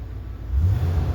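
A Ford F-150 pickup engine runs with a low, rough rumble, swelling a little as it hesitates off idle, close by and alone.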